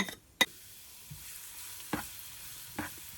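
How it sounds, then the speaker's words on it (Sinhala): Cinnamon bark pieces and chopped garlic fry in coconut oil in a pan, giving a quiet, soft sizzle broken by a few sharp stirring clacks. "දැන් මේ ටික පොඩ්ඩක් තෙලේ බැද ගන්න ඕනේ"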